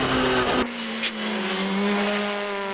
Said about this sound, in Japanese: 土屋号はシーケンシャル名物のノークラッチシフトアップを初公開だ